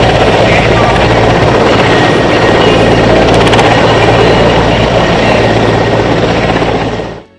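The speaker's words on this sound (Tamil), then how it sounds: "இறுதியில் சரங்கு ஹெலிகாப்டர் டிஸ்பிளே குழுவினர் ஹெலிகாப்டர்கள் மூலம் வான்வெளியில்" Helicopters of the Sarang helicopter display team fly over Marina beach during an air show, a loud, steady broadband rotor and engine roar that holds for several seconds before cutting off abruptly.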